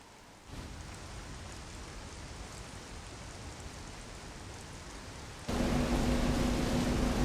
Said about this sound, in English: whatever planet Samus is on right now, it's clearly raining